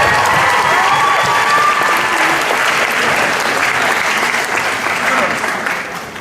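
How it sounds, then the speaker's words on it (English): A large audience at a music benefit event applauds loudly for a volunteer group that babysits and raises money. The applause is dense and sustained, with crowd voices mixed in, then tapers off near the end. "So if we can get a round of applause for the EEU."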